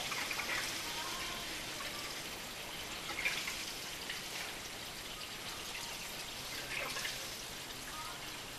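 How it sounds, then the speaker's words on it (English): Water pouring and dribbling steadily into a plastic sump of a whole house water filter, a continuous close splashing trickle with a few brighter drips, no voices. "Sounds like the second sump is almost full"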